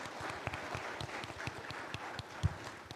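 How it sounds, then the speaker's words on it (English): Faint, thin applause for a panelist at a round table discussion, a small scattering of claps heard at a distance and fairly quiet. "Please give him a round of applause."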